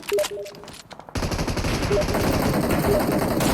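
Rapid automatic gunfire in PUBG Mobile during a large team battle on a bridge, a dense, loud burst of shots that cuts in sharply and continues steadily without pause.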